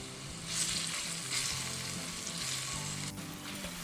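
Grated raw mango sautes in hot tempering oil for a Rajasthani gunda methi sabzi, a continuous soft sizzle and frying crackle with light stirring scrapes throughout.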